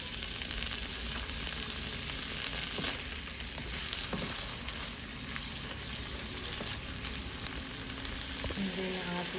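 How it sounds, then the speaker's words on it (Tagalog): Tofu sisig sautéing in a pan, a steady close sizzle and frying hiss with occasional stirring scrapes throughout, no talk over it. "Gisa-gisa lang po."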